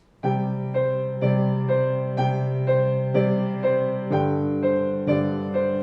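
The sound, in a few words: piano exercise, two right hand notes per left hand chord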